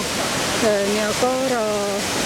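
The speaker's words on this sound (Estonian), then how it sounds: "selle kose kohta siis teada, et teda on võrreldud ka või nimetatud ka väikeseks Niagaraks" Waterfall on a Balkan river, a horseshoe-shaped cascade likened to a small Niagara, giving a steady broadband rush throughout, with a voice talking over it in the middle.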